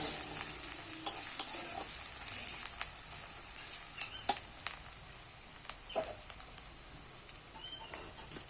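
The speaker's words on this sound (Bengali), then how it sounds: "এখন পেঁয়াজ আর রসুন দুটো মোটামুটি ভালো করেই ভাজা হয়ে এসছে" Onion and garlic frying in a pan for a prawn and pointed gourd dish, giving a soft, steady sizzle with scattered clicks and scrapes from stirring, fairly quiet and heard alone.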